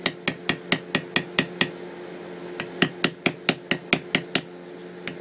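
A mallet strikes a leather beveling tool in a steady run of sharp, close taps, roughly seven blows, a brief pause, then about ten more slightly heavier strikes over a low background hum.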